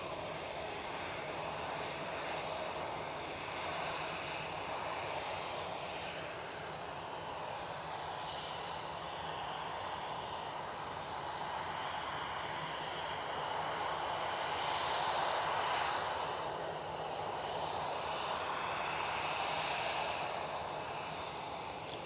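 Boeing 737 Max 8 airliner departing Manchester Airport for Hurghada, a sustained distant jet roar that swells slightly and holds steady throughout, with no voices.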